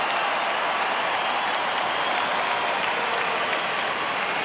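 Crowd noise at an Australian rules football match between Carlton and the Sydney Swans, a dense continuous roar and clapping from a large stadium audience, steady and loud throughout.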